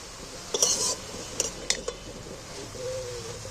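Greens being stirred in a kadai, with a few soft clinks and scrapes of a spoon against the pan over a low background hiss.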